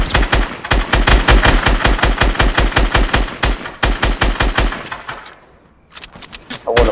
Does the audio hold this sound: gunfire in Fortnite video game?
yes